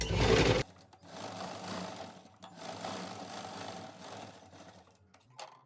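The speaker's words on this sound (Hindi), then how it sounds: "अब इस पट्टी को ऐसे पलट के सिलाई लगाएंगे यहाँ पे" A sewing machine stitches a turned-over strip on a blouse, starting with a loud close burst, then running steadily with a low mechanical hum and small pauses, a brief jolt near the end.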